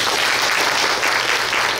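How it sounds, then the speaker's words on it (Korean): A church congregation at a Sunday service claps in a brief, steady burst of applause with no pauses. "박수 한번 할까요?"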